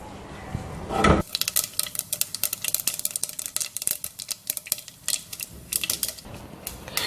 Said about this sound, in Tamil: கடுகு நல்லா பொரிஞ்சிருச்சுங்க.